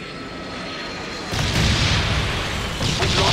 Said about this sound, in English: Enemy carpet bomb incoming.